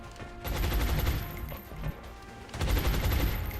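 Shotgun blasts in the turn-based strategy game XCOM Long War, two dense booming volleys with rolling impact noise, loud and close, separated by a short lull.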